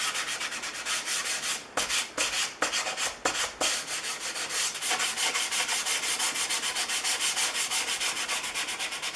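Close, steady sanding on an old Stanley No. 35 plane with remaining patina, a continuous rhythmic scratchy rubbing in quick back-and-forth strokes, briefly broken by a few pauses, then resuming evenly.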